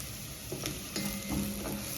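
Vegetables for a ginger butternut soup stirred and sizzling in a pot, with a steady frying hiss and a few soft scraping strokes of the spoon, close and moderately quiet, no talking.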